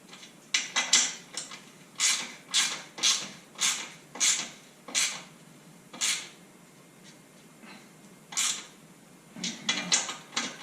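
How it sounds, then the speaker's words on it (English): Metallic clicks and ratcheting from wrench work as bolts joining the header pipe to the muffler go back onto a 1985 Honda Shadow VT700 exhaust, close and quiet in a steady rhythmic series of strokes with short pauses. "Now I'm going to put these bolts back on. These connect the header pipe to the muffler."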